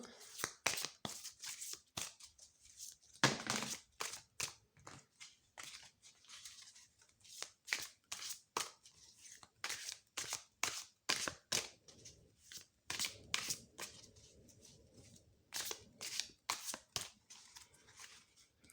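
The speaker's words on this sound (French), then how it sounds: "Je vais tirer une carte de conclusion avec le Crystal Power Tarot" Crystal Power Tarot cards shuffled by hand for a single-card draw, a quick run of crisp riffling flicks and soft slaps in a steady rhythm, close and alone.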